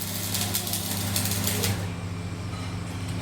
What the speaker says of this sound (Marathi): ही मोठी कटर मशीन आहे